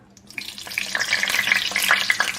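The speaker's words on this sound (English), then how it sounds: "If anyone's wondering when's a good time that the oil is ready, put a little bit of water." A splash of water hits hot frying oil and quickly builds into an intense crackling sizzle that swells and stays loud to the end.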